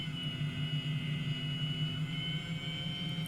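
A helicopter flying in a flight simulator game, with a constant droning engine and rotor hum that holds steady and fairly loud throughout, no talking over it.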